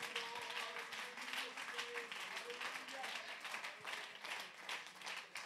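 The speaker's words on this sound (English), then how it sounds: "Would you clap your hands to the Lord?" Church congregation clapping hands during a Sunday morning service, a dense, fairly faint patter of many claps mixed with voices and crowd murmur.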